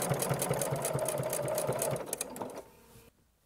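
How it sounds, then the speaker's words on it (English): A Bernina sewing machine runs fast, stitching down a fabric binding a quarter inch in with a steady rapid needle chatter, then slows in bursts before stopping and going quiet. "I'll bring this to my Bernina and I'm going to show you how to stitch this down and turn a corner"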